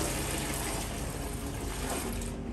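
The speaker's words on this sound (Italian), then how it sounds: "Poi cambio l'acqua perché l'acqua era sporca ormai." Water runs steadily from a tap during household cleaning as dirty cleaning water is changed, a loud continuous gush that eases off at the very end.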